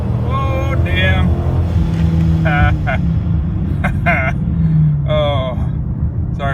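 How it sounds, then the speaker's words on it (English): A Dodge Charger R/T engine drones and revs as the car launches from a dead stop, with rising engine pitch and RPM jump under road noise and brief voices over it. "the RPMs jump right there when you launch from a dead stop"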